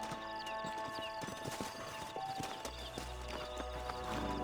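Horse hooves clip-clop in a steady rhythm over a dense game soundscape in Red Dead Redemption on PS5, with a low rumble building toward the end.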